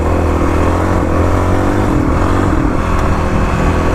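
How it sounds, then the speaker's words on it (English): A Kawasaki KLX351 dual-sport motorcycle on gravel rally roads, its engine droning loud and close as the throttle is eased on out of corners with the rear sliding, revs swelling and dipping steadily without speech. "Gonna work on easing on the throttle here out of corners, sliding a bit."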